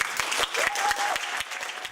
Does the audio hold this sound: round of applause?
yes